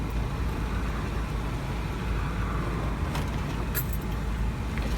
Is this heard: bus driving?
yes